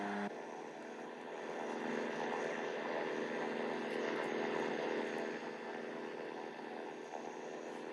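C-130 turboprop aircraft in flight in the Infinite Flight simulator game: a constant, dense propeller and engine drone, steady and moderately loud throughout with no talking.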